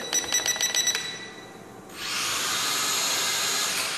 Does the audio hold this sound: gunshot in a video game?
no